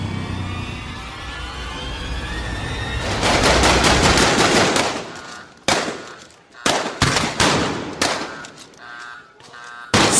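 Rapid bursts of gunfire crack out in several volleys, loud and close, with short gaps between the rounds and a lull partway through.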